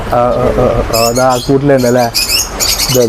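Several small finches chirp and tweet rapidly in bright bursts, close and loud, with lower cooing calls mixed underneath.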